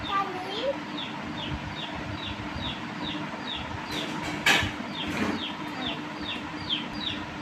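Rapid, regular peeping of young chicks continues throughout, with voices talking softly in the background.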